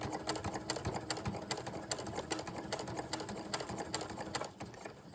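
Sewing machine back tacking at the end of an invisible zipper, a rapid, steady mechanical clatter of the needle running close and continuously, slowing briefly near the end.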